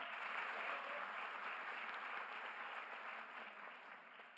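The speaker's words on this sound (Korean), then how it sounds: "저 박수 벌써 몇 번째 받고 있습니다." An audience at a town hall meeting in Jeju gives sustained applause, a soft, even patter of many hands that slowly fades toward the end.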